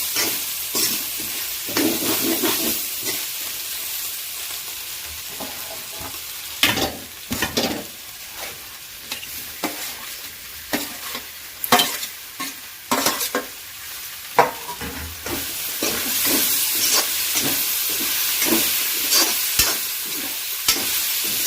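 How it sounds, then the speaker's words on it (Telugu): Tomatoes stir-fried in a pan for a vegetable curry, a continuous sizzle broken by repeated scraping and clattering strokes of a spoon against the pan, loud and close. "ఇప్పుడు మనం దీంట్లో టమాటా వేసేసుకుందాం"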